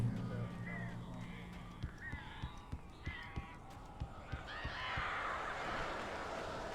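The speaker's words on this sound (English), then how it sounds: "These birds are weird." Crows cawing in the video game Alan Wake Remastered, several harsh caws over a rhythmic series of thuds and a rising rush of noise, fairly distant and low in level.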